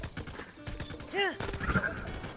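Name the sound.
bone horse hooves in Breath of the Wild video game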